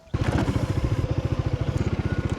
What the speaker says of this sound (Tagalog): ipupwesto ko yung motor ko ngayon